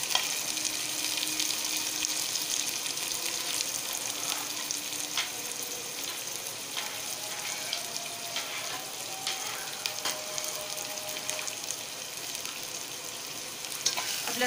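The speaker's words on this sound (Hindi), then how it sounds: "अब लहसुन को भी प्याज के साथ अच्छी तरह फ्राई कर लेंगे। इसको एक मिनट के लिए फ्राई होने देंगे।" Garlic fries alongside softened onion in a pan, a steady, fairly loud sizzle holding for the whole stretch, broken by occasional light stirring clicks.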